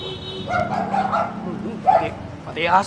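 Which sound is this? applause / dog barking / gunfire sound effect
dog barking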